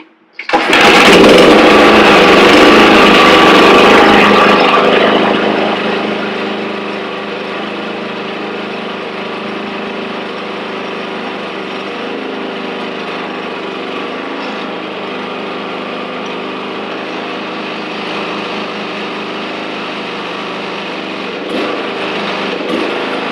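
An Exmark walk-behind lawn mower engine roars loudly at startup, then settles into a steady, droning run that continues close by without a break, with no talking.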